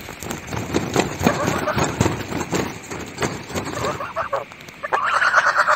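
A duck quacks and honks in a series of short, raspy bursts, close by and fairly loud, with voices talking over part of it.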